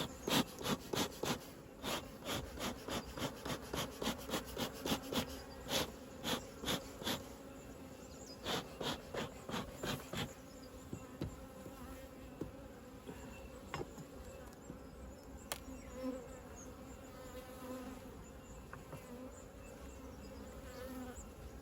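Agitated honeybees buzz loudly at an open hive, a dense insect hum with rapid pulsing bursts of wingbeats up close, some rustling mixed in.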